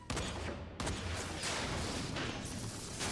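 Dense, booming gunfire from the video game Final Fantasy XIV, loud and continuous with a brief break near the start, like a heavy volley of shots.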